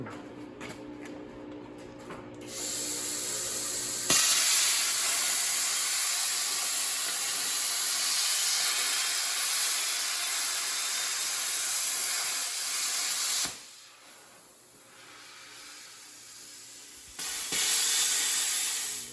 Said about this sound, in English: I'm gonna go cut it out on the plasma.